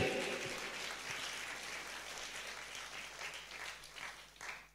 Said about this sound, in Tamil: நல்ல ஒரு பெரிய கரகோஷம் கொடுத்து